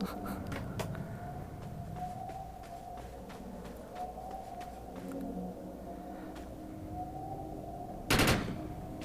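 Gunfire in the video game Defiance: a rapid string of light shots runs over a droning background, capped by a louder, heavier blast near the end.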